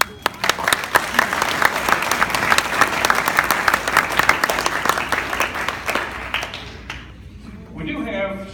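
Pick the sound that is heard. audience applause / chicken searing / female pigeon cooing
audience applause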